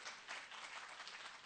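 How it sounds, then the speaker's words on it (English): Applause from the audience at a science summit session, a steady broadband wash of clapping held through the whole short stretch without any speech over it. "A round of applause to all you all"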